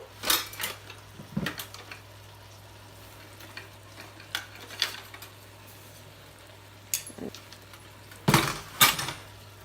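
A spoon scrapes and clinks around a pot of sweating onions in a home kitchen, in scattered short knocks over a faint low sizzle and hum, with a louder cluster of clatter near the end.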